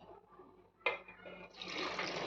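Milk poured into a mixer jar with melon and sugar makes a sudden splash followed by a steady, rushing stream of liquid that fills the jar, close and fairly loud.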